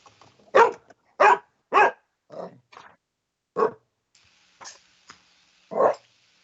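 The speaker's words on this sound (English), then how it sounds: "He's wagging his tail while barking at me." A pet dog barks at close range in short separate bursts, about eight sharp barks with pauses between, some louder and some softer, in an otherwise quiet room.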